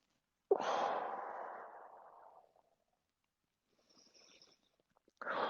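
A long, deep exhale during a leg stretching exercise, a loud close breath fading over two seconds, then a faint pause and another breath beginning.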